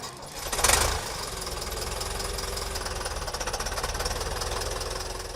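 A 1973 Lamborghini 804 DT all-wheel-drive tractor engine bursts loudly, then settles into a steady, close, knocking diesel chug with an even rapid rhythm and no voices.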